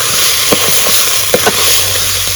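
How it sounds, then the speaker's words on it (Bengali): Rice for beef biryani is stirred in a pot, giving a few soft scraping strokes over a steady loud sizzling hiss, with no talking. "এখন আমি চালটা ভালো করে নাড়াচাড়া করি।"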